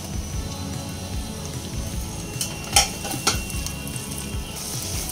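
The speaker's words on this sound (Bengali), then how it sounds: "এবার এই পর্যায়ে এসে 2টো টমেটো কুচি দিয়ে দেব" Chopped tomatoes and onions fry in a pan with a continuous close sizzle and crackle, joined by a few metallic scrapes and clinks of stirring against the pan, with no talk.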